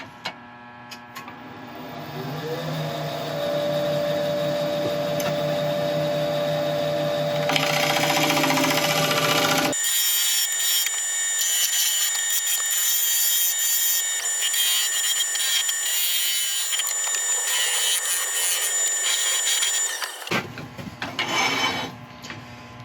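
A woodturning lathe spins a wooden piece while it is turned flat and then sanded, with a loud steady mechanical whir and hiss, an abrupt shift in tone midway, and a drop back down near the end.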